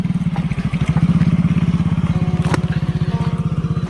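A motorcycle engine chugs through a hilltop village in a fast, even pulse, loud and close, holding steady throughout with a brief clatter partway.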